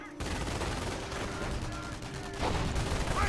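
Sustained machine gun fire and battle noise in Company of Heroes, a dense continuous rattle of gunfire with louder bursts toward the end, filling the whole stretch.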